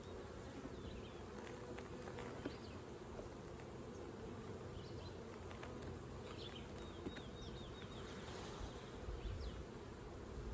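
Honeybees buzz steadily around an open backyard hive on a homestead, a dense, continuous drone close by with individual bees flying past now and then, and no voices.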